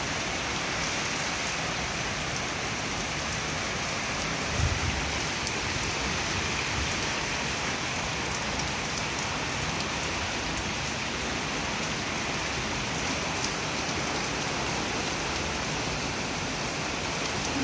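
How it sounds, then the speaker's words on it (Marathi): Constant downpour of heavy rain, a thick even roar of water striking nearby surfaces, with one faint low thump partway through. "पाउस है जोर जोरदार चालू है"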